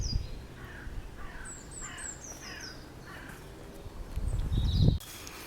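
A crow cawing in a Kent wood in early spring, giving a series of harsh calls at a moderate distance over a soft background hush, with a low rumbling noise swelling briefly near the end.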